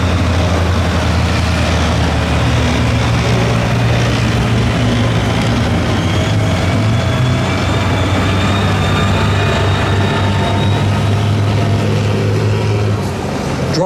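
An M16 half-track carrying .50 caliber machine guns drives around the tank museum arena, its steady low engine rumble and tracked running gear droning continuously and fairly loud, with faint higher whine above.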